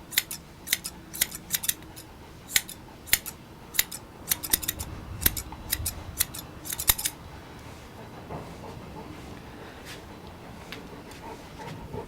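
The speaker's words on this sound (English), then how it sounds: "So I put the scissors flat on top of the head and cut the parts that stick out away." Scissors snip through a Bouvier dog's coat during grooming, trimming stray hairs flat across the top of the head: a rapid run of crisp, close metallic cuts over the first seven seconds, then quiet room tone.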